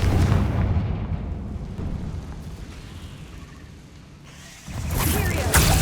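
Confringo blasting spell explosions in the video game Hogwarts Legacy: a loud booming blast opens, decays into rumbling debris and fades, then a second heavy burst erupts near the end.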